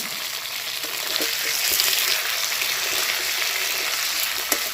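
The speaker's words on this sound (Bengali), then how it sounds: "আলুগুলোকে ভেজে নিতে হবে ভালো করে" Diced potatoes fry in oil in a pan, giving a loud, continuous, even sizzle with faint stirring clicks and no voices, at close range.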